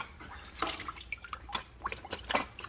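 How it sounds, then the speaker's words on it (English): Water shot into a coolant port to clear out chips flows back out as a close, irregular splashing trickle, with drips and spatters across a few seconds and no voices. "we're going to use some water and just shoot it in and let it flow out to get all the chips out"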